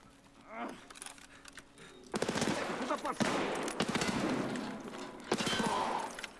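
Bursts of gunfire in the SPT shooter video game: a few loud volleys of rapid shots separated by brief pauses, close and sharp, with a faint voice underneath.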